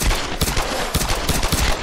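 Gunfire in Tomb Raider: Definitive Edition crackles in several sharp bursts across a couple of seconds, loud and close, with shots overlapping at an uneven rhythm.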